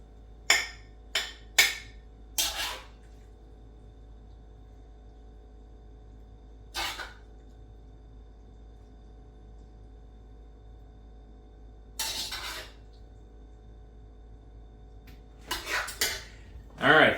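Dakgalbi is served onto a plate with scattered clinks and scrapes of a utensil against dishware, a quick cluster at the start and then isolated knocks, over a faint, steady background hum.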